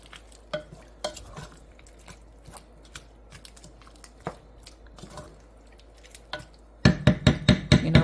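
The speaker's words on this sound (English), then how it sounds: "I'm stirring this up." Homemade pear butter stirred in a pot with the heat off, a spoon scraping in soft, irregular strokes, then turning into a quick run of louder, rhythmic scrapes near the end.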